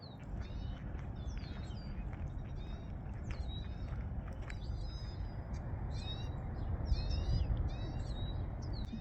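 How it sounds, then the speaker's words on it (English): Birds chirp outdoors on a walk around Martinez Town, with repeated short high chirps and trills scattered over a constant low rumble of outdoor background noise, fairly faint and without talking. "Birds are really chirping there."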